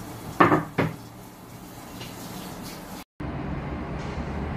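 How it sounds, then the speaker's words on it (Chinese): A lid goes onto a pot of young lamb meat, braised without added water for a traditional Kazakh dish: two quick, close metallic clanks, then a low steady background with no talk. "接下来我们把盖子盖上"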